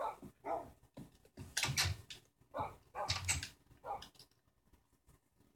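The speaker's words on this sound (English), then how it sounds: "there's my poopy dogs in here" Dogs in the Minecraft video game give several short barks and whimpers in spaced bursts, with quiet gaps between them.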